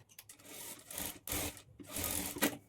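A sewing machine runs in short bursts while stitching a plain blouse sleeve with a long stitch, close and fairly quiet, with brief pauses between each run of stitches.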